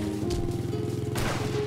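Sustained rapid machine-gun fire in a video game, a dense rattling burst running steadily throughout with a louder crash-like swell near the end, no talk over it.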